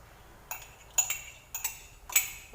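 A wooden spoon works semolina porridge in a hot pot, giving four quiet, evenly spaced knocks and scrapes against the pot with near silence between them.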